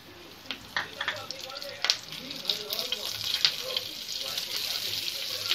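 Cumin seeds and curry leaves sizzle in a small amount of hot oil, a steady crackling hiss with scattered pops, close and moderately loud, with no one talking over it.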